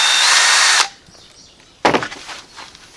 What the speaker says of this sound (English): you take your 3/32 drill bit. This is just a pilot hole